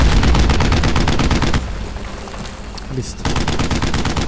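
Dense automatic gunfire and machine-gun bursts from a World War II shooter set around a French château, loud and continuous, dropping briefly to a softer rumble midway before the rapid volleys resume; a voice speaks briefly.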